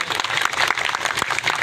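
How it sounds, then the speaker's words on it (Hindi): Applause for children at an award ceremony, a short dense burst of clapping from a crowd, close and fairly loud. "बहुत सारी तालियां जी सब बच्चों के लिए"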